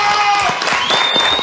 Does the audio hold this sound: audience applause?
yes